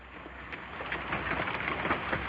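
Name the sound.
hailstorm pummeling a house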